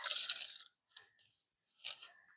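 Dry, dead lemongrass stalks in a spring garden crunch and crackle as they are handled and cut, three short crisp bursts close up with quiet gaps between, no voices.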